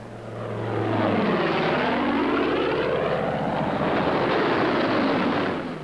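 A WWII P-47 Thunderbolt fighter plane passes low overhead with a loud, steady propeller-engine roar that swells and sweeps in pitch as it flies by, with no voices.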